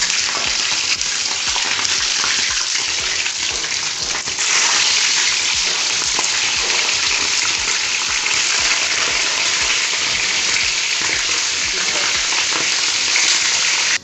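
Whole fish dropped into hot oil over a gas flame for crunchy fried fish, giving a dense, continuous hiss and bubbling that stays steady and close, then swells slightly louder a few seconds in.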